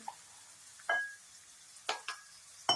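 Samosa filling stirred in a pan for a Punjabi samosa, with a few sharp scraping strokes at irregular intervals over a faint background sizzle.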